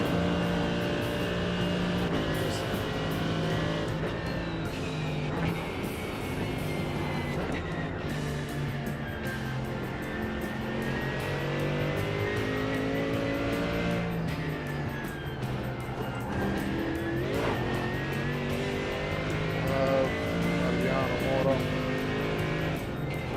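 Race car engines during Nurburgring Endurance Championship practice: a steady, loud engine drone with rising and falling pitch as the car shifts and accelerates, sustained for the whole stretch.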